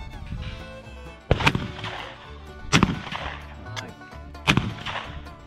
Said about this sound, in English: So clay pigeon shooting is completely new to me